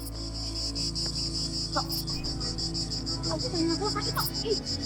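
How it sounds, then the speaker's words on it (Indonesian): Crickets chirp steadily in a high, shrill, continuous buzz, with a low hum beneath and faint voices murmuring in the background. "Ini kayaknya suara jangkrik tuh."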